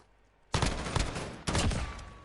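Gunfire from a PS4 multiplayer shooter game rings out in two loud, sustained bursts of rapid shots, the second starting about a second after the first. A thin steady tone lingers beneath near the end, with no talking.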